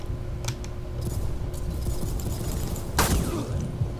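Gunfire in the online shooter Ghost Recon Phantoms: a dense stretch of game audio with sharp crackling reports, a couple of early cracks, then a louder burst of shots near the end, steady background noise throughout.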